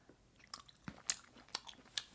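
Garlic butter abalone being chewed close to the mic, a few soft, moist bites and squelches spread unevenly across a quiet moment with no talking.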